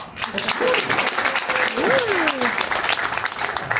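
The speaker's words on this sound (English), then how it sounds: "Everyone give her a big round of applause." A crowd claps steadily throughout, a dense sustained patter of applause with a voice calling out briefly over it.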